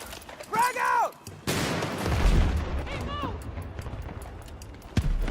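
A grenade goes off in a shooter video game, a loud rumbling blast that rolls on for about a second amid game gunfire, with players' voices before and after.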